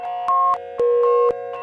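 A synthesized tone is fed through the Kajita Multi Tap Delay with its second delay active and no reverb, producing clean sustained beeping pitches that step between notes, each change marked by a short click, loud and alone.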